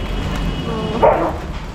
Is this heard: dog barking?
yes